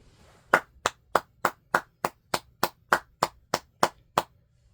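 Thirteen crisp single hand claps ring out at an even, unhurried pace, close and fairly loud, each sharp smack standing alone with no talk in between.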